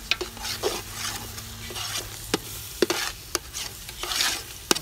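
Eggs being stirred in a hot pan for a Moroccan chicken and almond pastilla, with a steady sizzle beneath repeated sharp scrapes and clinks of the utensil against the pan, close and moderately loud with no talking.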